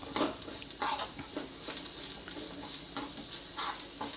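Masala for a coconut fish curry fries in a pan with a soft sizzle, while a spoon scrapes and clinks against the metal in an irregular stirring rhythm.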